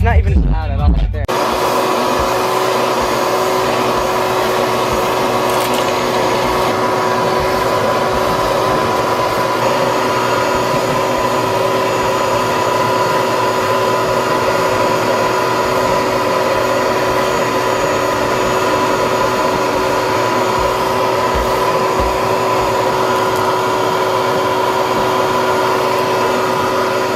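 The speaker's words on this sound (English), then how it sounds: "I don't think is very strong, but it did pretty good." Vacuum cleaner running while cleaning the cab interior of a 1974 Ford F-100 pickup, a steady loud motor whine and airflow hum that starts abruptly and drones on continuously, close up, with no talk.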